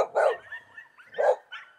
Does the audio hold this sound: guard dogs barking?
yes